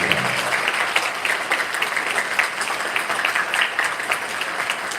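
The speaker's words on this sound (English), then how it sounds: "Let's give this student a round of applause" An awards-ceremony crowd claps for a student at a senior awards event, a steady, fairly loud wash of many hands that carries evenly from start to finish with no talking.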